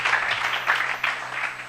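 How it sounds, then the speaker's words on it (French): A church congregation applauds, a short burst of dense, steady clapping at moderate distance. "Applaudissons le Seigneur Jésus"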